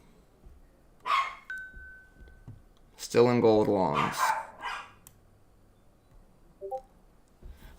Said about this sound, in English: Sounds like my dog's telling me to get out of gold. I don't know if y'all hear her barking in the back.